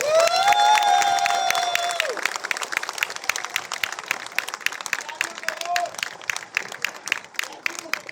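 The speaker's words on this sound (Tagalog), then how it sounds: "pwede bang yung pinakamalakas nyong palakpak para sa kanila?" Loud applause from an assembled crowd honoring employees, steady dense clapping with a few cheers and whoops, sustained throughout with a voice briefly heard early on.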